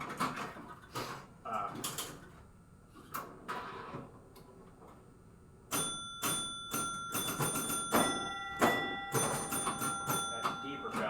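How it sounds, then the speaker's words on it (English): Scoring bells on a Wild Wild West pinball machine ring in rapid bursts, sharp metallic strikes repeating in quick clusters, some deeper and some brighter, close and loud over the machine's ongoing rattle. "That deeper bell, that's the 100 bell, so that's what we want to hear more of."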